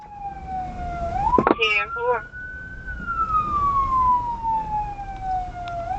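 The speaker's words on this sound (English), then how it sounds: "the trooper activated sirens" A police car siren wails in a long, smooth rising and falling tone, close and steady, during a high-speed chase, with a brief radio voice and road noise underneath.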